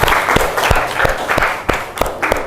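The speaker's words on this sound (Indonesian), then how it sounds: "Beri tepuk tangan ke Alintia." A classroom of students applauding a classmate, a sustained patter of many hands with a steady rhythmic beat of group claps running through it, close and fairly loud.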